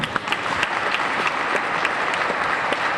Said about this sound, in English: How about a nice big round of applause for Representative Uglem?